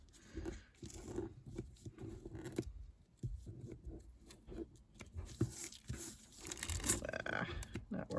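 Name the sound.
trimming paper for a craft journal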